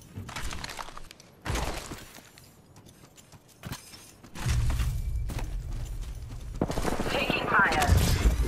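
Gunfire from Apex Legends comes in sharp bursts with gaps between them, followed by a sustained loud stretch of rapid shots and clattering effects near the end.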